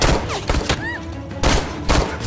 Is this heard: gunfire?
yes